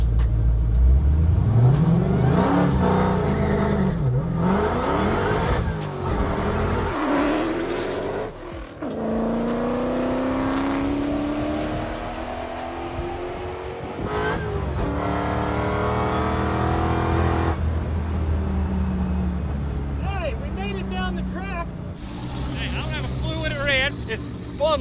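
A manual-swapped Dodge Demon V8 roars through a drag strip pass, its engine revving and climbing through gears with rising and falling pitch sweeps, loud and close, with people talking over parts of the run.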